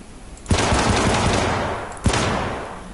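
Pistol fire in the PC video game Syndicate: two sharp reports about a second and a half apart, each trailing into a sustained roar of background combat noise.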